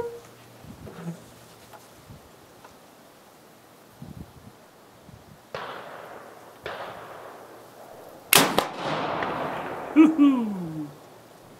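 A French Chassepot rifle fires one sharp, loud report about two-thirds through, preceded by scattered quieter clicks and handling thumps, with a ringing tail afterward.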